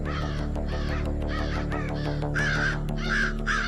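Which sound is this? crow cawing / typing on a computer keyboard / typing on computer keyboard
crow cawing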